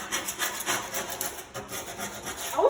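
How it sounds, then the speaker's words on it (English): A scraper rasps old paint off a John Deere LA120 lawn tractor in close, rhythmic strokes, a continuous gritty scratching with no voices over it. "I'm just scraping everywhere to see what comes off."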